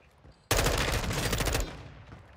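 A sustained burst of rapid pistol gunfire in a shooter game on Ashika Island, loud and dense for about a second before it tails off into quieter ambience.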